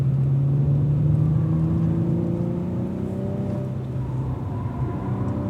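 A Cadillac V-Series car on a race track, its engine note steady and loud, then easing and rising again as it slows and powers back up, with no talk over it.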